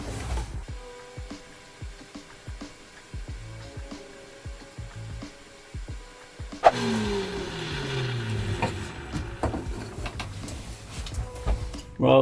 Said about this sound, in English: I'm just going to turn on my vacuum and drill that hole out.